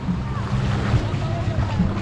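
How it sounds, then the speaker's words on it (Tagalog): Sea waves wash onto the beach at a resort in Calatagan, a steady surf rumble mixed with wind buffeting on the microphone. "Ito na yung dagat, guys."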